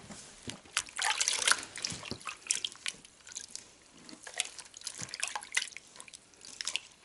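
Water splashing and dripping in uneven bursts from rinsed handspun knitted socks, with wet squeezing and trickling sounds close by.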